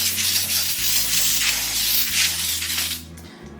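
Baker's Joy baking spray hisses from an aerosol can onto parchment in a baking pan, a close, continuous burst lasting about three seconds before it cuts off with a small clunk.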